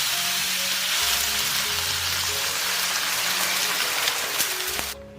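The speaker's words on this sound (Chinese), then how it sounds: "淋入一圈白酒，再次翻炒一下，然后加入1000毫升开水" Beef brisket sizzles loudly in a hot wok as a splash of Chinese liquor goes in and boiling water is added, making a dense, steady crackle that cuts off abruptly at the end.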